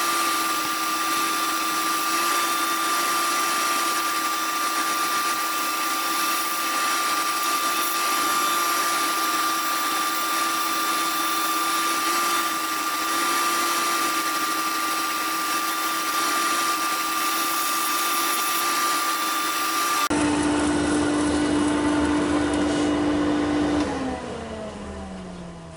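An old bowl being upcycled and sanded down to 600 grit: a continuous, loud mechanical whine and hum that shifts in tone partway through and winds down at the end, with no talk.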